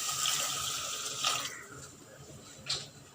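A little water is poured into a pan of prawns seasoned with salt, turmeric and chili powder, a faint, steady trickling splash with a couple of brief louder swells, heard without talk.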